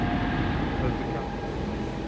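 A loud, continuous low rumble of a train rolling past close by, with steady rail noise and no speech.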